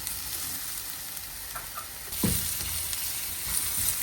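Mushrooms sauté in a pan for a chicken chilli bean sauce, giving a steady close sizzle that swells into a louder burst of frying and stirring about halfway through, with no talking.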